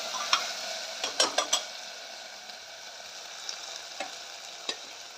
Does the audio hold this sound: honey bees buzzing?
no